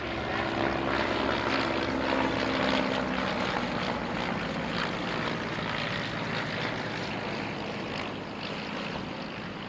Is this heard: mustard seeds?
no